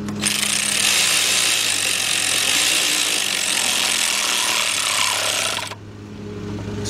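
A power tool drives valve cover bolts down on a 2012 Ford F-150 with the 3.5 engine, making a loud, continuous, harsh whirring buzz that holds steady for several seconds, then cuts off abruptly to quieter shop background.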